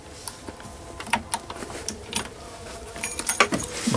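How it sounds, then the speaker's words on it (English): Keys jangle inside the cab of a 2021 DAF CF 480 tipper truck, close metallic clinks and rattles in scattered bursts that grow busier toward the end. "Let's see if these are the keys for this truck."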